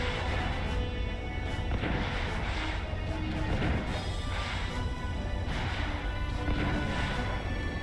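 Torpedo launches and impacts in the naval video game Battle Stations, a continuous loud barrage of crashing booms and whooshing blasts repeating irregularly over several seconds.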